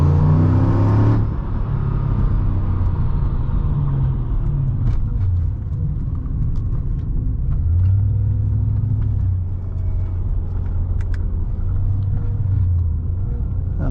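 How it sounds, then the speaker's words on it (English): Steady low engine rumble from a 2006 Mercedes-Benz E55 AMG W211 with aftermarket headers and non-solid motor mounts, droning and vibrating close inside the cabin while driving, with a short burst of louder noise at the start. "the reason that car makes a little bit of noise there is because it doesn't have solid motor mounts, and it's got aftermarket headers"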